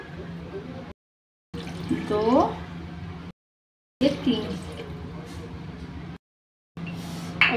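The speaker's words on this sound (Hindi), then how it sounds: "मैं डालूंगी एक गिलास पानी" A glass of water poured into a raw mango mixture for aam panna gives a gurgling, rising fill sound in two close bursts separated by brief silences, with light kitchen clatter around it.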